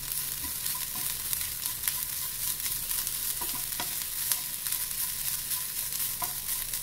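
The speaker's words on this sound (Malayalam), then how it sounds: "നല്ല ബ്രൗൺ കളർ ആവുന്നത് വരെ വറുത്തെടുക്കാം" Half a cup of grated coconut fries in a pan toward brown, giving a soft, even sizzle with occasional light stirring clicks and no talking.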